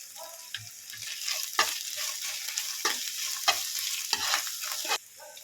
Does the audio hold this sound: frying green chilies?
yes